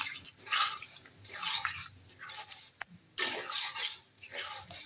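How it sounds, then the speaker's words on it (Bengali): A spoon scrapes and clanks against a pan while soaked rajma beans are stirred into spices over a gas flame, several bursts of scraping separated by short pauses, fairly close and moderately quiet. "রাজমাটা আমি মশলার ওপর দিয়ে এবার খুব ভালো করে নাড়িয়ে নেব"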